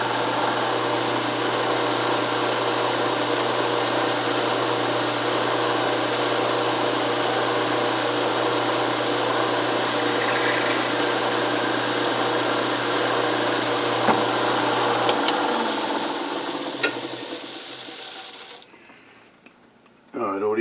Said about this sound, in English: So all I'm doing is just drilling here against a piece of scrap wood.